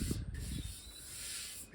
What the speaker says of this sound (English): I've done a light rub down with 1500 grit, dry.